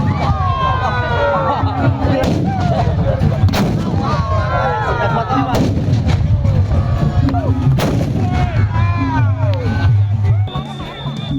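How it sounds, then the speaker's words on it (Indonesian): Giant bamboo Kuluwung cannons boom repeatedly in a traditional cannon duel at the end of the Lebaran holiday, heavy blasts landing every second or two over a noisy crowd of cheering, shouting people. "tradisi adu meriam raksasa atau Kuluwung di momen akhir libur Lebaran"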